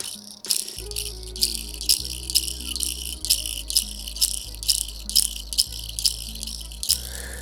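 Metal Toyz DZ Cyber Balls, two metal fidget balls held side by side, click and clack in a steady rattling rhythm of sharp bright strikes over a low resonant ring, close and fairly quiet, with no voices.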